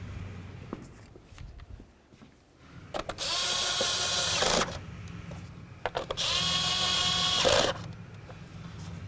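A power drill twice runs in long bursts, driving mounting bolts into a manifold cover on a Nissan Sentra, with light handling clatter before and between the bursts.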